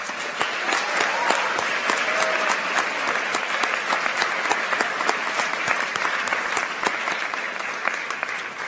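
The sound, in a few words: audience applause at awards ceremony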